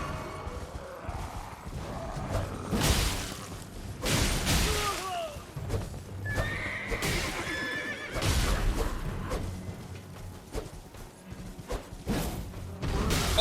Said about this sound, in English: Get on the fucking horse.